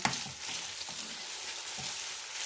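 Strips of chicken searing in a hot pan give a steady loud sizzle and crackle, with a few soft stirring scrapes and no talking.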